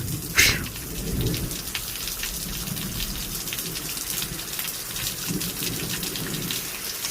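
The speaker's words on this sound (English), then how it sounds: "The storm really isn't letting up" Heavy rainstorm with thunder, a steady loud wash of pouring rain throughout, with a sharp thunder crack near the start and low rumbles rolling underneath; no talking.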